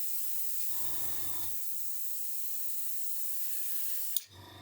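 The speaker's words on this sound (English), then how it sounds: "just spray around this wheel rim and build the paint up very" Airbrush spraying paint around the wheel rim of a scale model, a steady broadband hiss throughout with short bursts from the compressor or nozzle, close and fairly quiet, no voices.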